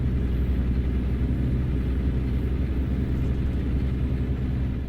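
Engine of a truck hauling scrapped cars along a two-lane road in American Truck Simulator: a steady, loud low-pitched drone with constant rumble and no change in pace throughout.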